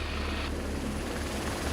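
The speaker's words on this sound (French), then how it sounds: "L'hélicoptère va se mettre en position d'attente" A rescue helicopter's rotor and engine roar loud and steady over a motorway, a close, unbroken drone with its pitch shifting slightly as it flies off.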